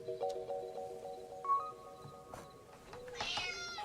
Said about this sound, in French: C'est un chat qui miaule